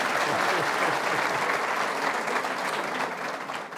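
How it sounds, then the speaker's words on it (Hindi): A studio audience claps for a TV talk-show panel, giving dense, sustained applause that stays loud and steady throughout before easing slightly at the end, with no talking over it. "पूरे पैनल के लिए तालियां बजा दूंगी"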